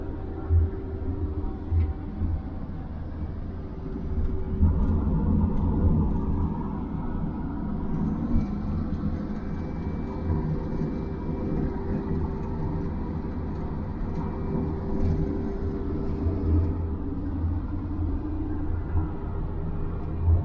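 Steady low rumble of a camper van cruising along a UK road, a continuous engine and road drone heard from inside the cabin, with no talking.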